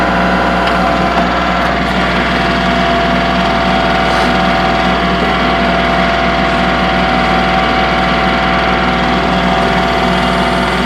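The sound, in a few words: Kubota L3902HST tractor running while lowering backhoe outriggers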